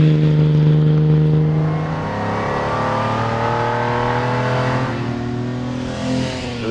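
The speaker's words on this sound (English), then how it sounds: "The transmission is a 4-speed straight cut gearbox, so it creates a tractor-like sound, if you will" A 1955 Mercedes-Benz 300SL Gullwing with an inline six and a four-speed straight-cut gearbox, a loud steady engine drone with a whining gear tone that eases slightly, then swells again near the end, with no voices.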